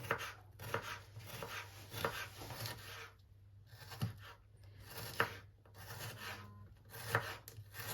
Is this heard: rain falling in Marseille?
no